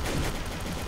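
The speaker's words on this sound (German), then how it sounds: "Jemand hat auf Anker geschossen." A burst of gunfire in Trouble in Terrorist Town, set in a toy-land map. It sounds like a dense, noisy volley lasting under a second, loud and close.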